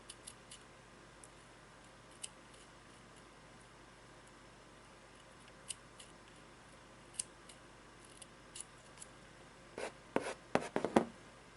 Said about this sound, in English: I will cut a little bit of the end of the cord.